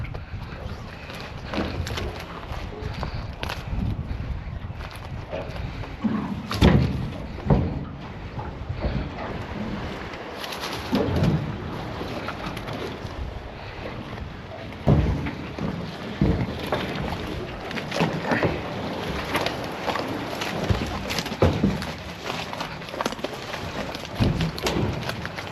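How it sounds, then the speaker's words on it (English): Wind buffets a commercial fishing boat in far northern waters, a continuous rushing roar with gusty surges and occasional thumps and knocks from the deck, while people talk intermittently. "Just a lot of wind."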